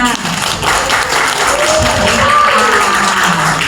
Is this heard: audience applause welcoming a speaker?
yes